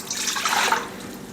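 Water dumped out of a bowl during a bathroom faucet and drain plug removal, a close splashing gush that swells and trails off over about a second, with no voices.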